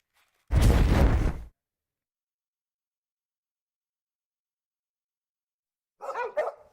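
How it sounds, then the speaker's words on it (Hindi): Dogs bark at night outdoors: one loud, close bark bursts out, then silence, and a fainter, shorter bark follows several seconds later. "अपने डॉग्स बहुत भौंक रहे हैं, जल्दी चलो।"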